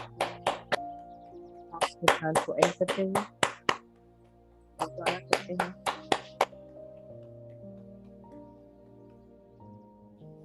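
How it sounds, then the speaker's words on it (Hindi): A meditation group claps hands together in quick rhythmic bursts, first a long run of crisp claps, then a pause and a second shorter run, over soft sustained background music while a voice briefly speaks. "अब हम अपने हाथों से ताली बजाएंगे"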